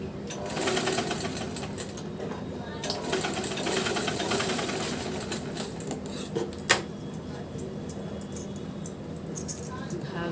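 A sewing machine stitches a thin seam on a blouse, running as a steady, close mechanical whir with a rapid needle chatter, one sharp knock partway through, and a voice talking faintly beneath it.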